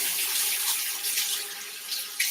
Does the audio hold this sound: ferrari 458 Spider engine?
no